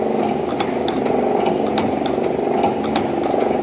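A metal shaping machine cuts a groove with a steady mechanical drone and a faint clack on each forward and return stroke of the tool, loud and continuous.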